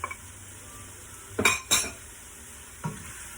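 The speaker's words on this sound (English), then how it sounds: "I'm just going to mix it up a bit." A spoon stirs cinnamon, nutmeg, cayenne, allspice and cloves into a pot of vegan pumpkin soup, giving two quick scraping clinks close together and a softer third one, with a faint sizzle underneath.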